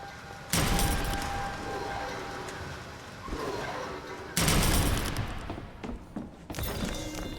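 Gunfire in the video game BioShock Infinite crackles in several dense bursts, with loud volleys at the start and midway and shorter shots later, set against busy game ambience.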